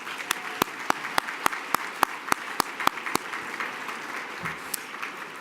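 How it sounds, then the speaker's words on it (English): Sustained applause from a large awards gala crowd, a steady dense wash of clapping with several sharp, evenly spaced louder claps standing out near the front. "Please give yourself a round of applause"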